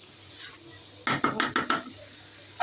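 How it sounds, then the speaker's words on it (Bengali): A metal lid clatters onto a cooking pot of spiced chicken, a quick run of four or five close rattling knocks as it settles, with a faint stovetop sizzle before and another clank at the end. "এখন আমি ঢাকনা দিয়ে দিচ্ছি"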